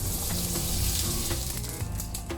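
Butter sizzling and smoking in a hot pan while protein pancakes cook, a steady close crackling hiss that runs throughout without speech.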